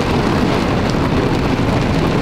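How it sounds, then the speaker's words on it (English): Heavy rain pours steadily and loudly in Sanford, Florida, a dense continuous roar with no pauses and no voices. "it's raining like a motherfucker now."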